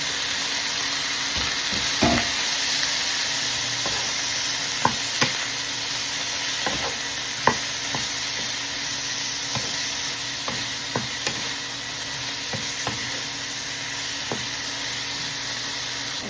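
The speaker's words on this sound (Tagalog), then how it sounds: "Fry muna natin" Eggplant and onion fry steadily in a pan for a spicy talong with tofu dish, a continuous close sizzle punctuated by occasional clicks and scrapes of a spatula stirring.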